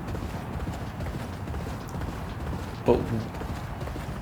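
Horse hooves gallop in the racing video game Champion Jockey, a steady muffled clip-clop drumming throughout, with a louder thud near the end and someone talking over it.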